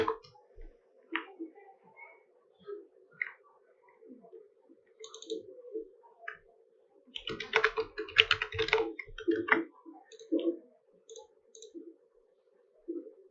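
Typing on a computer keyboard during coding work, with soft sparse clicks that come in short bursts and then a denser flurry of keystrokes, close and fairly quiet against a faint steady hum.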